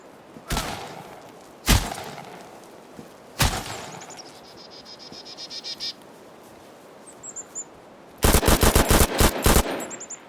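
Gunfire in an extraction shooter game: three sharp, loud single shots spaced apart, then a rapid burst of automatic fire near the end, with faint bird chirps and insect buzz between.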